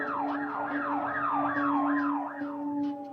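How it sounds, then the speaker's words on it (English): Wailing emergency sirens sweep up and down in steady repeated cycles during a prison riot, loud and continuous with no talk over them. "and then they started drowning me out with sirens."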